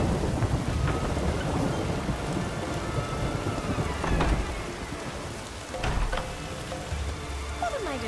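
Steady rain pours down with rolling thunder and a few sharp cracks in a Skellige storm in The Witcher 3: Wild Hunt, a dense, continuous downpour that fills the whole scene.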